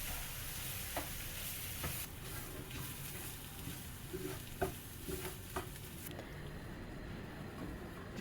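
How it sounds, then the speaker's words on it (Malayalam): Unroasted semolina is stirred and roasted in a pan for soft upma, with a continuous soft hiss and sizzle and occasional scraping strokes of the spoon close by. "1 കപ്പ് വറക്കാത്ത റവ ഇതിൻ്റെ കൂടെ തന്നെ ചേർത്ത് അങ്ങ് നമുക്ക് ഇതിൻ്റെ കൂടെ നന്നായിട്ട് വറക്കാം."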